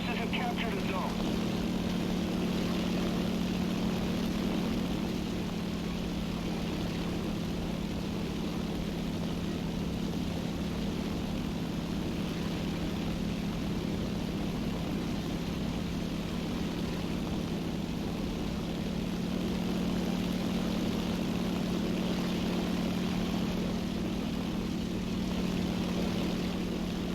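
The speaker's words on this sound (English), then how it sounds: "So far it looks like it's a good cluster of planes in the air." Propeller airplanes flying in a dense cluster in the combat game War Thunder: a steady, loud engine drone holds for the full stretch without letting up, with a person talking over it at times.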